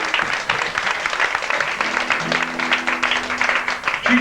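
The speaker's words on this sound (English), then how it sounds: "Let's have a big round of applause." An audience at a live show applauds a one-person band with steady, full clapping throughout, while a few sustained musical tones creep in underneath partway through.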